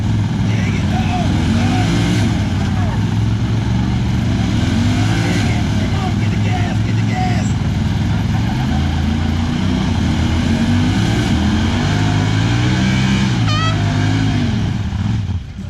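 Side-by-side UTV engines straining in a tug-of-war pull at a mountain event, loud revving that dips and climbs with shifts, with people talking over it throughout.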